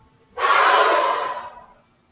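A single deep, forceful exhalation during a lunge exercise, a broad breathy rush that starts abruptly, holds for about a second and fades out, close and alone without talk.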